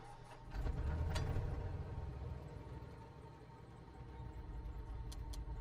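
A Cessna light aircraft's engine starts and settles into a steady, low mechanical drone with faint rattling, close and continuous throughout.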